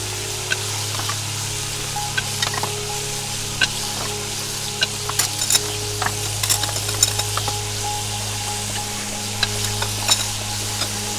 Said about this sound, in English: it's time for plates to be also covered with boiling water